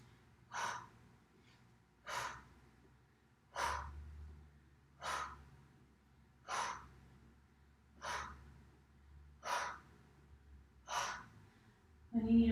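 Heavy breathing after an ab workout, eight slow, evenly spaced breaths close to the microphone, each a soft, airy exhale separated by quiet pauses.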